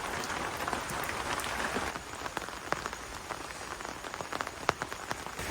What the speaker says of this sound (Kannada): ಪೇಟೆಗೆ ಹೋಗಿ ಬಂದದಷ್ಟೇ ಮಳೆ ಮಳೆ ಮಳೆ ಫುಲ್ ಮಳೆಯೇ